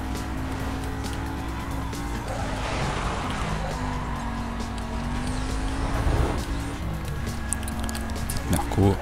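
A Mercedes CLK 500 races in Need for Speed: Most Wanted, its engine droning at a steady pitch with rising and falling revs, tire squeals and rushing road noise, close and continuous under a voice.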